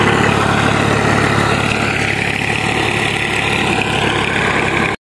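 A tractor fitted with a blade runs at a village farm in Pakistan, its engine idling in a steady, loud low rumble before cutting off abruptly.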